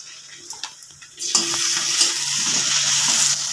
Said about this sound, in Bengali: জিরেটা একটু ভেজে নেব।